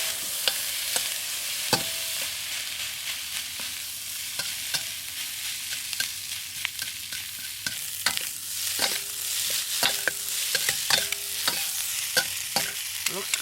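Kimchi shrimp fried rice stir-frying with soy sauce and oyster sauce in a pan, a steady close sizzle broken by frequent sharp metallic clacks and scrapes of a utensil tossing the rice.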